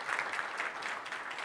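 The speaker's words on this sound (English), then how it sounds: "Please give him a round of big applause here." Conference audience applause for a guest speaker at a Microsoft databases session: a soft, even wash of clapping from a hall, fairly faint and distant, lasting about a second and a half.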